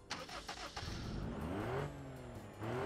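A three-cylinder Gavril Vertex engine in BeamNG Drive starts with sputters, then revs up in rising sweeps, close and fairly loud.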